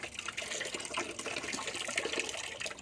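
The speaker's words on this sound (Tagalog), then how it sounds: "maraming tubig dito sa gripo" A strong stream of water runs from a faucet at a home laundry area, a continuous close splashing gush with no voices over it.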